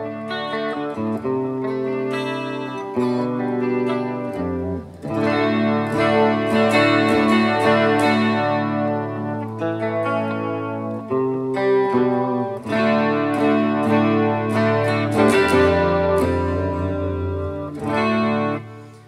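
A Leo Jaymz Single Cut Deluxe electric guitar plays clean, chorus-tinged chords and single notes, ringing steadily with effects, no voices.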